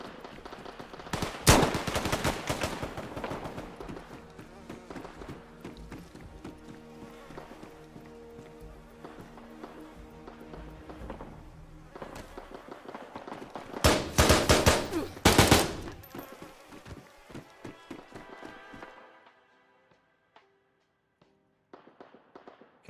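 Loud bursts of automatic and single gunshots in the survival game DayZ, set in Chernarus, with dense volleys early, a big cluster around the middle, then scattered shots fading to near silence.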